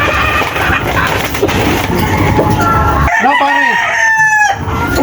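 A rooster crows loudly nearby, its call rising and falling, after a stretch of noisy background chatter and clatter.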